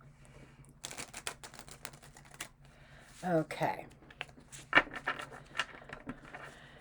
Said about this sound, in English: And they say, one more shuffle.